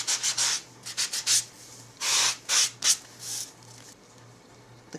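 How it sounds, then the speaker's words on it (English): Textured cardstock being lightly sanded to distress it, a series of short close scratchy rubbing strokes in quick bursts, then quiet. "So again, just sand this lightly."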